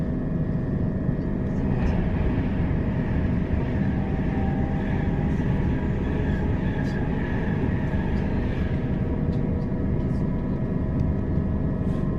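Steady rumble of a train running on rails, with tonal hum over it. The noise holds a fairly even level throughout, as if heard from on board or very close by.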